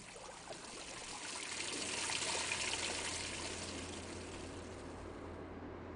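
Sugary whisky wort pumped into a fermentation tank, or washback, in a distillery: a steady, continuous rush and trickle of liquid that swells slightly in the middle, moderately loud and without voices.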